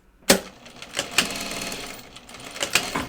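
Close sewing machine stitching a seam on a fabric project bag starts abruptly, then runs in short rhythmic bursts of needle clatter with brief pauses.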